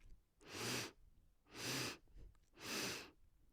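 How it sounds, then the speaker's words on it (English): Pranayama breathing from a Kundalini yoga practice: three strong, evenly spaced nasal breaths, each a loud, rounded rush of air separated by quiet gaps, close to the microphone. "it's like having 4 sniffs, or it'll sound that way"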